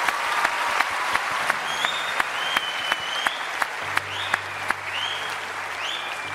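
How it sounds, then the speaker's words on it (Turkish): Studio audience applause for Mustafa on the Turkish singing show O Ses Türkiye, a sustained crowd clapping backed by a low musical drone, with sharp periodic accents cutting through and faint tonal chirps above. "Mustafa için bir alkış alabilir miyiz?"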